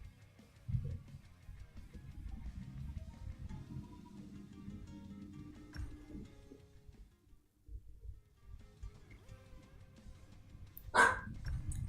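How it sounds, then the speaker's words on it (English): A dog barks once in a sharp, distant burst near the end, faint against a low, murky background hum and muffled indoor noise. "Oh, that's my dog."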